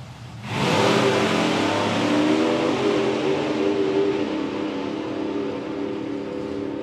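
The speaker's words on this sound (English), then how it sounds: "Mark Corsell and Dan Boone, a pair of 8-second slingshots coming at you." A pair of 8-second slingshot dragsters at a drag strip, a loud roaring engine blast swelling in at once and holding steady as the cars run, fading slightly toward the end.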